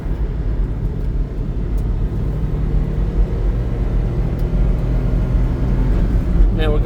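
Mitsubishi car engine pulling hard as it accelerates through the gears, a loud continuous low rumble heard from inside the cabin, with someone talking over it.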